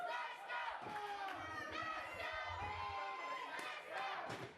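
A wrestling arena crowd roars and chants steadily throughout, a dense wall of cheering voices with occasional thuds of action in the ring underneath.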